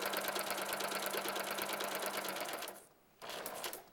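A domestic sewing machine stitches fabric in a fast, steady mechanical chatter, close and loud, then stops briefly and starts again near the end.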